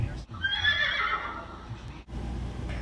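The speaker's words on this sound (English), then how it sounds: "Horse." A horse neighs once in a long, wavering whinny that rises and then trails off, close and clear against a quiet background.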